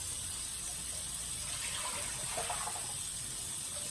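A steady rush of water pouring and splashing into a cooking pot, continuous and close, with a faint high hiss throughout.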